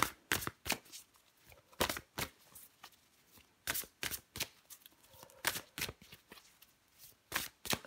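Tarot cards shuffled by hand, a steady series of crisp riffling bursts repeating roughly every half second to second, close and clear, with no talking.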